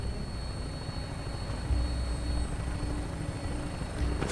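A helicopter-type aircraft flying with a pilot aboard in Fallout 4 gives a steady, droning engine and rotor hum that runs unbroken at even loudness from start to finish, with no talk over it.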